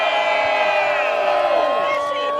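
A large outdoor crowd at a Washington DC voting-rights rally cheers and whoops loudly and continuously, many voices blending into one sustained roar.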